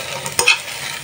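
Pieces of ash gourd, a winter pumpkin, are stir-fried in a hot pan, with a short scrape of the spatula over a bright oily sizzle, lasting about a second.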